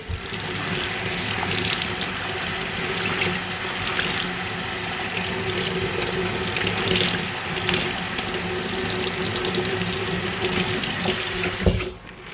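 Tap water runs steadily into a sink while a sponge is wetted before cleaning an oven, a constant close gushing rush lasting throughout and ending with a brief knock.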